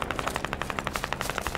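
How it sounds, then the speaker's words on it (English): Automatic gunfire in a military shooter video game crackles in a quick, steady burst of moderately distant shots, each crisp and evenly spaced. "I think we're taking shots from the north, I can't tell."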